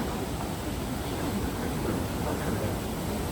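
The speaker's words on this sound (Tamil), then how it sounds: "தண்ணி சவுண்ட் கேக்குதா?" Broadband rushing wash of water flowing past a boat on the water in Zurich, steady and continuous at moderate level with no breaks.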